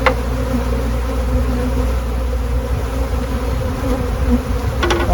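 Swarm of bees buzzing all around at close range, a loud, dense, continuous drone with overlapping wingbeats, steady throughout.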